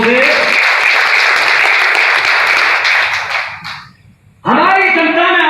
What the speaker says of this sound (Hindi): ताली बजाओ एक बार जोर से।